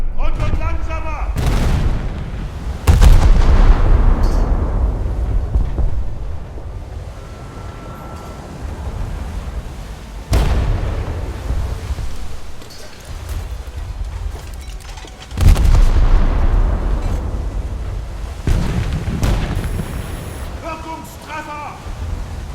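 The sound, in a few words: naval artillery fire from a warship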